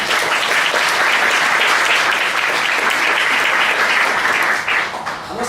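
An audience at an inaugural class of a popular school of critical communication breaks into loud, dense applause that holds steady before tapering off near the end.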